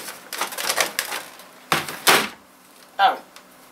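Old computer keyboards being handled and set down, giving a few sharp clattering knocks and plastic rattles in short bursts, fairly close, with quiet gaps between them.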